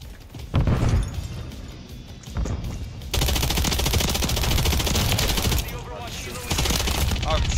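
Rapid automatic gunfire from a video game bursts loudly and continuously, with brief pauses between heavy volleys.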